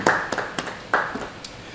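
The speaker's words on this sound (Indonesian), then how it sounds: "Beri tepuk tangan bagi dia hari ini." A small church congregation at a Bible study claps briefly, a handful of scattered hand claps at moderate distance with a faint voice in the background.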